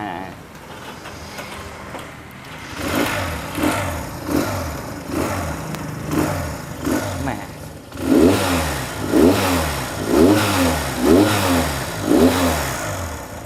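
A classic Honda C95 motorcycle engine idles, then revs up in repeated rhythmic throttle pulses as it is ridden, the revving growing louder and more regular in the second half.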